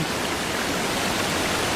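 Water rushing in a video game, a steady, dense wash of broadband noise that stays loud and even for under two seconds with no voices over it.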